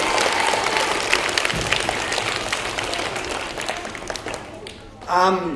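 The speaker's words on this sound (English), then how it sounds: "Shall we give them a big clap to say thank you?" Audience applause in an auditorium after a space-themed stage show, a dense, steady wash of clapping that fades out, followed by a short burst of voice at the end.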